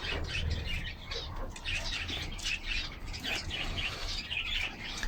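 Pigeons in an aviary give off a steady wash of chirps, coos and fluttering, moderately near and continuous throughout, with a faint voice briefly in the background.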